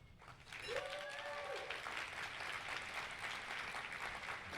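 An audience applauds to welcome Edward Snowden at a live Q&A event hosted by Jack Dorsey; the clapping swells in after a brief moment and holds as a steady, fairly distant wash, with a short whistle-like tone near the start.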